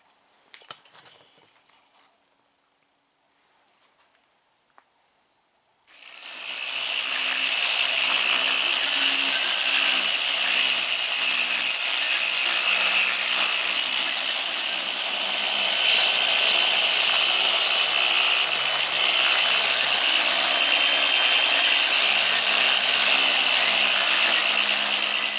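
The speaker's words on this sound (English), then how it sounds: "I'm finna go ahead and sand this down with 80 grit sandpaper." A DA sander with 80 grit sandpaper working over a fiberglass dash pad of a Box Chevy Caprice. A few faint knocks come first, then a loud, steady high whine of abrasive sanding starts and runs continuously, close up.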